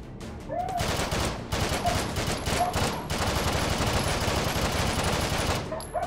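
A PPSh submachine gun fires in the VR shooter Hot Dogs, Horseshoes & Hand Grenades, loud rapid automatic bursts that rattle almost continuously with only brief gaps between them.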